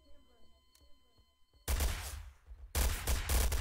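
Bursts of M9K addon gunfire in a video game, loud dense volleys in two stretches, with quieter scattered shots and faint sounds before them.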